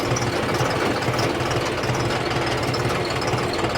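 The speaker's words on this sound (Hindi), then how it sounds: "वो ट्रैक्टर मैंने आपको बता दिया आइडल आरपीएम के ऊपर चल रहा है" A John Deere tractor engine idling at about 700 rpm, a loud, steady, rough knocking diesel rumble heard close up without pause.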